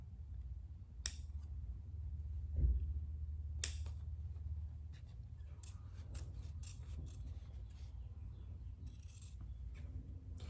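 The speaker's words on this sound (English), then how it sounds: "I'm going to take my scissors and I'm going to cut in the middle" Scissors cutting fabric for a welt pocket with flap, a series of crisp snips and small metallic clicks spread across a quiet room, close and fairly faint, with no talk.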